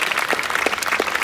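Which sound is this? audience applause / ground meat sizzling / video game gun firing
audience applause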